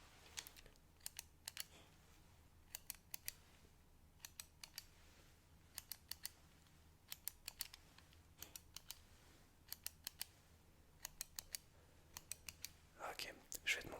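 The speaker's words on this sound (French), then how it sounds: "je vais prendre une petite photo pour voir un petit peu ce qu'on peut faire avec mon appareil" A camera's shutter clicks quietly and up close in short bursts of two to four quick snaps, repeated many times with pauses between, in a hushed, soft-spoken setting, with a brief rustle at the end.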